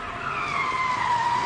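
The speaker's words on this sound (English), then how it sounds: "That's a car." A car skids with a long, loud tire screech that slides slowly downward in pitch and holds steady without a break, heard alone with no voices.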